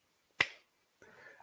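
One sharp, quiet hand clap rings out alone, then a soft voice begins speaking shortly after.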